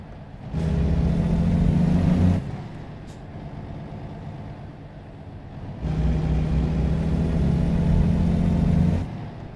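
A heavy truck's diesel engine in American Truck Simulator, hauling a load of some thirty thousand pounds, revs up in two loud, sustained pulls, with a lower idling rumble before and between them.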